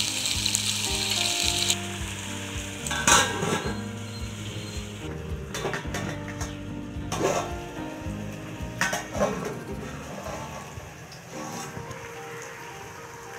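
Turkey berries with onion and tomato sauté in a pan that is covered partway through, giving close, soft sizzling mixed with clattering utensil and lid knocks and scraping, with no talk.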